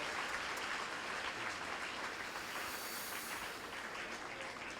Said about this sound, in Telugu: గట్టిగా చప్పట్లు కొట్టి వారిని ఆహ్వానిద్దాం.